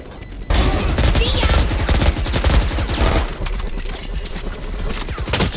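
Vandal rifle fire in the video game Valorant: dense rapid bursts of gunshots crackling loudly throughout, sustained automatic fire with a brief quiet start before the shooting begins.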